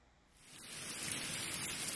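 Rain sound effect rising from near silence into a dense, steady hiss of falling rain, loud and continuous with no voices.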